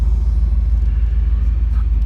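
A 1987 Chevrolet Camaro IROC engine drones with a deep, steady pulsing rumble from inside the moving car, loud and continuous throughout.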